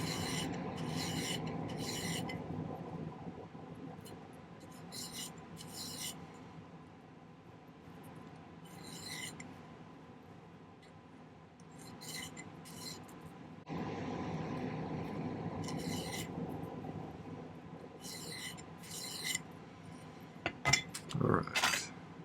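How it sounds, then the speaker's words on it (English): Metal piece being filed square on its ends before being rolled into a tube bail for jewelry: bursts of rhythmic rasping strokes come and go, close and fairly quiet, over a steady low background hum. "let's make sure everything's filed up square"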